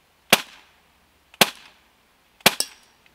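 Three sharp BB airgun pistol shots fired from the hip, each a crisp close crack with a short ringing tail, spaced about a second apart, the last followed by a quick metallic ping of impact.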